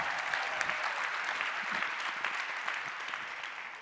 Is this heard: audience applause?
yes